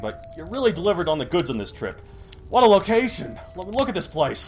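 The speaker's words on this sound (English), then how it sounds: "Listen to those crickets chirping." Crickets chirp steadily in dark woods at night at a campsite, a thin, regular trill running under continuous close conversation between two voices.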